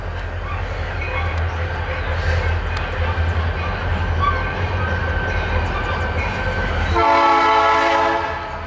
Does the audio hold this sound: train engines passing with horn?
yes